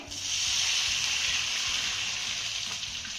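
Water poured into a hot Marathi-style tempering for a green pea dish bursts into a loud hissing sizzle that swells at once and holds steady, close and uninterrupted.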